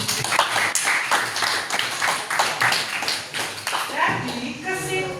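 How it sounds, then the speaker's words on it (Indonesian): Students applaud a classmate in a school classroom, a run of quick overlapping claps for several seconds with voices mixed in, fading near the end. "Beri tepuk tangan untuk Fani."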